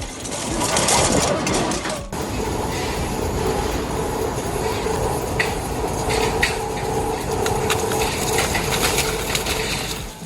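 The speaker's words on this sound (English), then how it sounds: "Crushing steel like it's cardboard, this shredder shows how modern control meets raw industrial power." An industrial shredder crushes scrap steel with a loud, continuous grinding roar and dense metallic rumble, steady throughout with scattered clanks and scraping bursts close by, and no voices.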